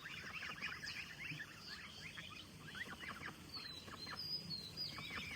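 Muscovy ducks and their ducklings on a farm, with soft, scattered peeping and quacking calls repeating over a quiet background for several seconds.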